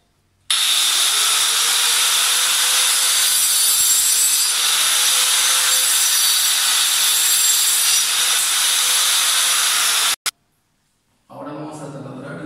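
A saw cuts a rail for a bathroom louvered door in steady, continuous strokes for about ten seconds, loud and close. It then stops abruptly, and brief talk follows.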